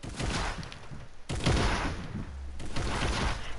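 Bursts of Fortnite gunfire crackle in three rapid clusters of shots, moderately loud with a few seconds of continuous firing between brief gaps.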